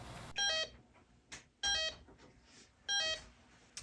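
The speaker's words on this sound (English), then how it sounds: "this produces a gas that the gas detector actually detects" A gas detector sounds three sharp electronic alarm beeps in a spaced pattern, fairly close and clear, with quiet room noise between them and no speech.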